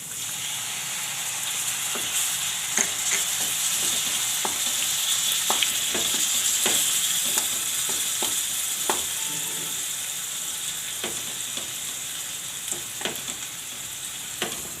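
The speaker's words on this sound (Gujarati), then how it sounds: "તો આપણે ટમેટાને આ રીતે આમાં શેડવી લઈશું" Tomatoes sautéing in hot oil in a pan for a Gujarati valor bean curry, with a steady bright sizzle throughout and scattered sharp clicks from a spoon stirring against the pan, close and alone.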